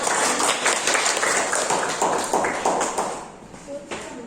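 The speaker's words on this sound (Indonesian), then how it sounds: "Silakan berikan tepuk tangan." Tenth-grade students in a classroom at a state vocational high school in Seririt clap together in a dense burst that thins and tapers off toward the end, with voices mixed in.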